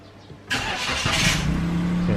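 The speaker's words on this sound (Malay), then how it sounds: "Saya start engine." A car engine cranks and fires at about half a second in, then settles into a steady idle with a low hum, close and loud, during work to clear a check engine light.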